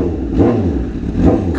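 A Honda CBR 1000 RR Fireblade with an unmuffled SC exhaust tip revs twice in quick succession, loud and close, each blip a deep throaty roar over a rumbling idle.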